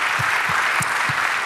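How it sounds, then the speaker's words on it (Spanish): Church congregation applauding during a worship service, a dense, even wash of clapping that holds steady and loud, with a few low thumps and no talk over it. "Recibe este aplauso en el nombre de Jesús."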